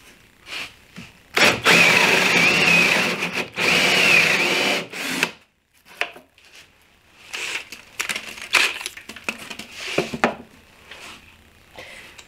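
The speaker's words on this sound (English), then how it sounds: "And drill my hole." A power drill bores a hinge hole in a pine or plywood cabinet door using a jig, with two long whining bursts followed by shorter stop-start spurts and clatter up close.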